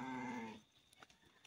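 A lamb bleats loudly and close for about half a second, a harmonic, wavering cry from a growing flock of sheep at a farmhouse, followed by faint scattered knocks and shuffles.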